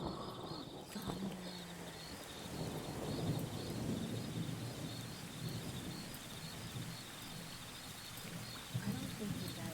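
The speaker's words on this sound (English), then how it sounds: "Thunder." Thunder rumbling through steady rain, low rolling booms over a dense patter of drops, with faint birds and a voice now and then in the background.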